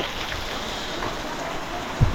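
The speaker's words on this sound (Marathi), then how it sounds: "पाऊस पण आला आहे." Rain falls at a village temple, a steady even hiss of close, moderately loud drops with a brief thump near the end and no talk.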